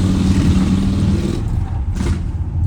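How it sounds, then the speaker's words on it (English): A loud motorcycle engine roars nearby with a steady, heavy low rumble across the whole moment, its pitch dipping and swelling slightly as it passes. "sorry, loud motorcycle."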